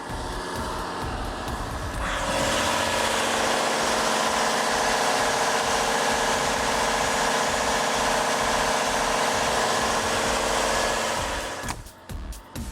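A steady, loud mechanical hum of a running engine fills the recording, starting up after a couple of seconds and holding constant before dropping off near the end.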